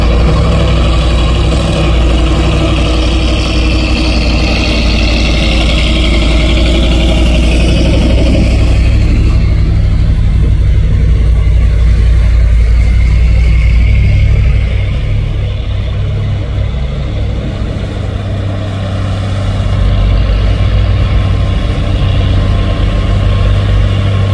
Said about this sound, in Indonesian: Dump truk bermuatan pasir.